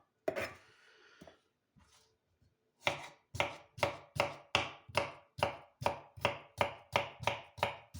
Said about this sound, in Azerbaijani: xiyarlarımızı doğrayırıq.